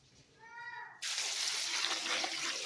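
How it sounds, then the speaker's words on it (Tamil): Water pours steadily into a bowl of grapes soaking in salted water, a loud continuous splashing rush that starts suddenly and keeps going, with a short cat meow just before it. "உப்பு சேர்த்து தண்ணி ஊற்றி ஊற வைக்கணும்"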